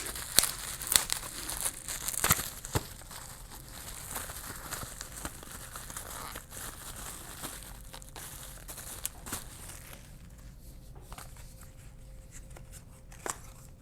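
A mailed package of Topps baseball cards being opened up close, with quiet crinkling and tearing of paper and plastic wrap in irregular bursts, softer toward the end.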